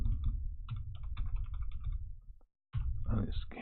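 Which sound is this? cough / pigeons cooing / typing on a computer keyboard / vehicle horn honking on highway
typing on a computer keyboard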